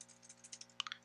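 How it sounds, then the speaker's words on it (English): Computer keyboard keys tapped in a short quiet burst of close, quick clicks, alone with no talk. "And then you can just type whatever."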